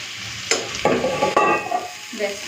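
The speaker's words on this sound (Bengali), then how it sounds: "চিনি তো একটুখানি নেড়ে চেড়ে নিলাম" A spoon stirs curry with a little sugar in a pan, with soft scraping strokes over a light sizzle for a couple of seconds; no one speaks.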